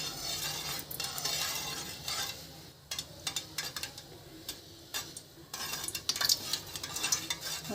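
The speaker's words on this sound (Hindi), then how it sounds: "इस तरह से हम तेल को हिलाएंगे, तेल घी जो भी है इस तरह से" A utensil stirs oil or ghee in a pan while rasgulla is being made, giving close, irregular clinks and scrapes against the metal with a faint sizzle beneath, with no talk.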